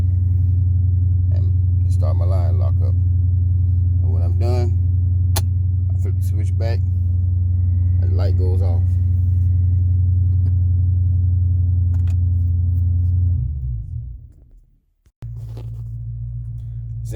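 A Dodge Challenger engine idles with a loud, steady low rumble while a line lock is engaged, then briefly dips and drops out before settling back to idle, with someone talking over it.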